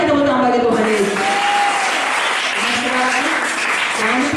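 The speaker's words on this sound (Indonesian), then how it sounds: "Berikan tepuk tangan bagi Tuhan Yesus" A congregation at a church seminar in Tondano claps in a steady, sustained round of applause with a voice talking over it.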